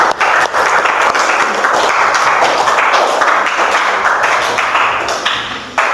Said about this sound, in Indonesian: Ya, kasih tepuk tangan untuk teman kalian.